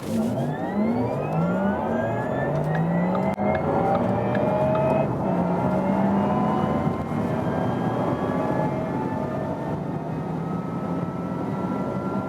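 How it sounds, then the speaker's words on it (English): A Porsche Taycan 4S electric car accelerating hard on a German Autobahn, its rising electric whine climbing in pitch over loud road and wind roar for a long sustained pull. "And we'll accelerate from 30 kilometers an hour and just go all the way through."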